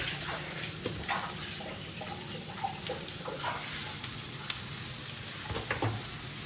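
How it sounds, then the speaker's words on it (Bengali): A paratha fries in a pan with just a little ghee, giving a continuous, even sizzle up close, with occasional small clicks and scrapes over it. "আমি বেশি ঘি আমি আর দেই না, একটু শুকনা শুকনা করে রুটির মতন করে ভাজি"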